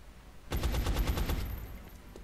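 A rapid burst of automatic gunfire in the strategy game XCOM: Enemy Unknown, about eight evenly spaced shots rattling off close and loud, then fading into a quiet tail.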